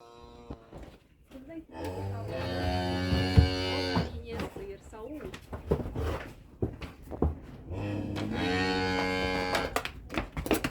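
A cow lowing repeatedly beside its calf during an evening on a village farm, several drawn-out moos close by, with people talking in between.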